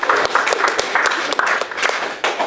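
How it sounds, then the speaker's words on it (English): A single person applauds on a game show set with brisk, steady hand claps that go on evenly for a couple of seconds, close and fairly loud, with no one talking. "Why am I clapping for myself?"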